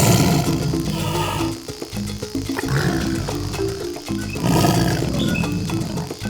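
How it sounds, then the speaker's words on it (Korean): A tiger growls and roars in deep, rumbling bursts, loud and close, with two long roaring swells separated by a quieter grunting stretch. "저기 호랑이가 있어. 혹시 호랑이가 소리를 내는 거 아닐까?"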